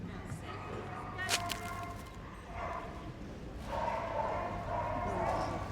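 A dog barks and yips repeatedly during an agility jumping run at Crufts, the barks rising over steady crowd and arena noise with a commentator talking throughout.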